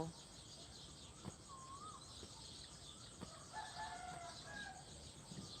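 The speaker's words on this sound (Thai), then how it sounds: "ได้ยินเสียงไก่ขัน" A rooster crows in the distance over a steady outdoor wash of insects and hiss among rural farm fields, faint and drawn out.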